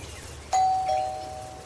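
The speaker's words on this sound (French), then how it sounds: "Ding ding ding dong." A single electronic doorbell chime rings once inside a home, a clear ding with a lingering ringing tone over a quiet room.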